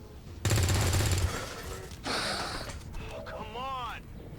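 A gunshot in XCOM: War of the Chosen, a loud rapid burst of fire followed by further impacts and game effects, with someone talking around it.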